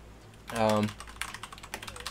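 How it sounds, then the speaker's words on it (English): A brief voice sound, then rapid, uneven clattering of keys on a Logitech G710+ mechanical keyboard with Cherry MX Red switches being typed on hard, close up. "but if I start furiously typing"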